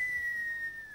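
A single sustained whistle, high and steady, pitch sliding slightly downward as it fades, the kind of catcall whistle aimed at a woman, heard alone at close range.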